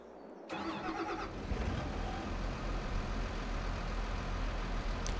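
A tractor engine in Farming Simulator 22 cranks and catches after a brief quiet start, then settles into a steady, loud idle rumble that holds to the end, with no talk over it.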